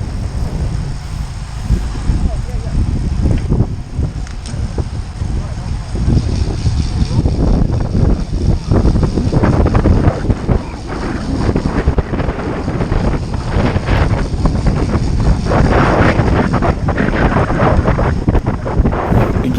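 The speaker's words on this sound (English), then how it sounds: "You can hear that wind every direction." Strong wind buffets the microphone during a group cycling ride heading west into a headwind, a loud, steady roar with gusty surges that lasts throughout.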